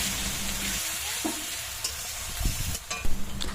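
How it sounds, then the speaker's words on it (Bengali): Whole cumin seeds, ground onion and tomato paste frying in hot oil for a village-style Bengali tel koi fish curry, a steady close sizzle with stirring scrapes and a few louder clatters near the end. "এবার গরম তেলে কিছুটা গোটা জিরে ফোড়ন দেব। এর মধ্যে দিয়ে দেব বেটে রাখা পেঁয়াজ আর টমেটো।"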